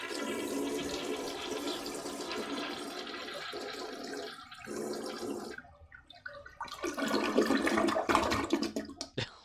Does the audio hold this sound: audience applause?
no